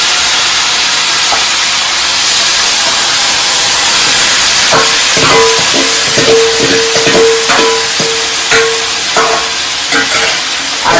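Marinated country chicken drops into hot oil seasoned with whole garam masala and cumin, setting off a loud, steady sizzle and hiss with scattered sharp crackles and pops, heard close up with no talking.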